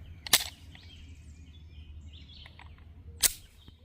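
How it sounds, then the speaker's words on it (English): Two sharp, loud shots from a Canik MC9 Prime pistol fired on iron sights at a target about 15-20 yards away, spaced about three seconds apart, with birds chirping faintly outdoors in between. "we all know we're here for the first shots of the MC9 Prime"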